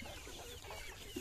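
Desi hens and roosters cluck softly on a free-range poultry farm, a faint burst of short clucks against low outdoor background noise.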